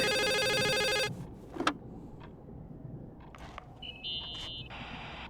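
A telephone rings in the video game The Suicide of Rachel Foster: a loud electronic trill, followed by quiet room sounds, small clicks and a brief tone.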